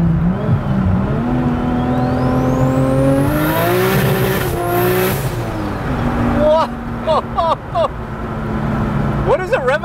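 A Nissan S-chassis grip car running on ethanol revs up, its engine pitch rising and sweeping high before settling to a steady idle, with people talking nearby throughout.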